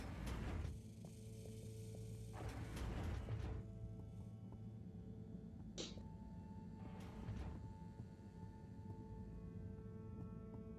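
Mechanical elevator machinery in the video game Harold Halibut, a steady low hum with layered tones, punctuated by a few swelling whooshes and a brief metallic clank, moderately loud and continuous with no talk.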